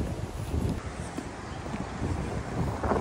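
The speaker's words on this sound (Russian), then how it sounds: "сегодня немножко прохладно, ветер дует" Steady wind buffets the microphone outdoors in Durban, South Africa, a continuous low roaring rumble with gusty swells and no voices.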